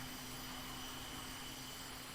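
An F-16 auxiliary power unit spins up in the VTOL VR flight simulator, a steady loud turbine whine and roar with a constant tonal hum, holding even throughout with no talk.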